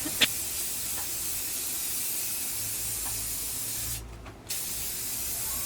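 Spray paint hisses steadily from an aerosol can onto an HDPE Thor's hammer, one long close spray with a brief pause near the end before resuming.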